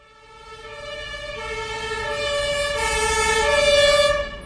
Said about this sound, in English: An ambulance makes its way through a traffic jam at Hermannplatz.